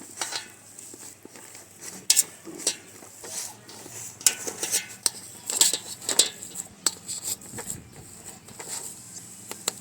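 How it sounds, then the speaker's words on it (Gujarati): Boiled potatoes are mashed in a bowl or pan with a utensil, producing repeated close clicks, taps and squishy presses in an irregular rhythm, with no talking. "આપણે આ બટેકાને મેશ કરી લઈએ"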